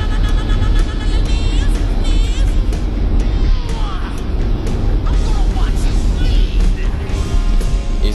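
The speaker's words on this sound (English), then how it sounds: "Let's listen to the sound of that Magna." 1998 Mitsubishi Magna engine droning steadily on the Gold Coast street circuit, a constant loud rumble heard from onboard, mixed with wind and road noise.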